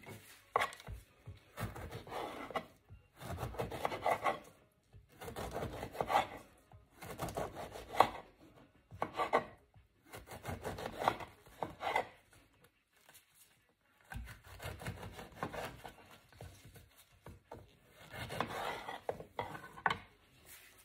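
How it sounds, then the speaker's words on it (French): A knife chops a lemon into small pieces on a cutting board, with quiet repeated bursts of cutting strokes separated by short pauses, close but soft. "Maintenant, nous allons découper notre citron en petits morceaux."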